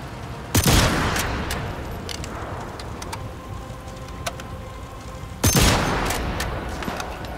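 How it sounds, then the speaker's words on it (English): Two loud, sharp rifle shots in Sniper Elite 5, set in the Festung Guernsey mission, the first near the start and the second about five seconds later, each with a long rolling echo over steady rain-like ambience. "I gotta shoot this guy now."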